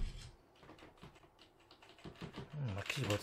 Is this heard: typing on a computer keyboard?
yes